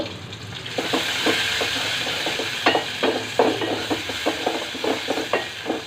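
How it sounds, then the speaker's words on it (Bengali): Onion fries in a pan with salt while being stirred, a continuous close sizzle punctuated by repeated scraping taps of a spatula against the pan, no voices. "এখন পেঁয়াজটাকে আমি ভালো করে ভেজে নিব।"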